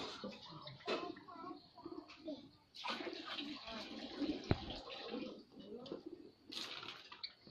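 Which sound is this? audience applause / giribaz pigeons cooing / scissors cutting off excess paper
giribaz pigeons cooing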